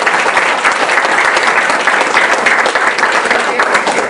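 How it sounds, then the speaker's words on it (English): A big round of applause for Jackie as she comes up to present at an Oak Ridge diversity program evening, loud, dense and sustained from a sizable audience throughout. "Let's give her a big round of applause."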